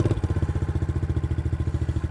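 A Kayo Bull 125 EFI kids ATV moving slowly forward, its small engine putting out a close, rapid, even throbbing putter for a couple of seconds.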